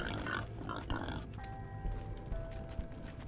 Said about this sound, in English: Okay, so we don't have to kill the bomb pigs.